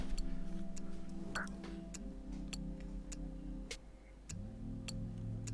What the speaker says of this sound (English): I like when a ticking clock is integrated right into the beat there.